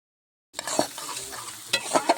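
Turmeric powder, cumin powder and chopped tomato fry in a pan while a spoon stirs them, giving a close sizzle with sharp scraping strokes after a silent start.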